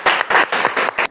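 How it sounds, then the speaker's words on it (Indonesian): Classroom students clap in about five quick, loud, evenly spaced bursts for a student group, close by and with no talk. "Tepuk tangan untuk kelompok 3."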